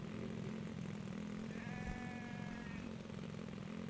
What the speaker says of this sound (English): I hear you, sheep, or goat, or whatever you are.